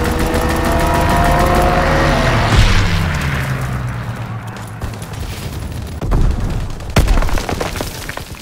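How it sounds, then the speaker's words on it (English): In the Call of Duty: WWII multiplayer game, a strafing-run airstrike hits the Shipment 1944 map with a rolling barrage of heavy gunfire and booming impacts, dense and continuous, swelling and fading with sharp cracks near the end. "Strafing run inbound!"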